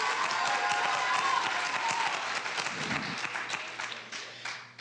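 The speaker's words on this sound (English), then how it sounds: "Let's have a round of applause for all of them" Steady, dense applause from an audience at a youth video awards ceremony, loud and sustained throughout before thinning slightly at the very end.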